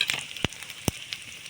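Whole bay leaves, cumin seeds, garam masala and dried red chillies frying in hot oil as a tempering for a vegetarian potato and pointed gourd curry: a faint, steady sizzle broken by two sharp pops and a few softer crackles.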